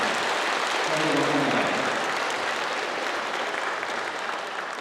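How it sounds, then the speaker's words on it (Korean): An audience at an evening camp meeting gives the autoharp team a big round of applause, a dense, steady roar of clapping that carries on evenly throughout, with a brief murmur of voices early on. "우리 다시 한번 오토 하프팀을 위해서 큰 박수를 드리겠습니다"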